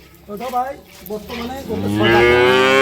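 A cow at a cattle market lets out a loud, drawn-out moo that swells and holds near the microphone, with people talking briefly beforehand.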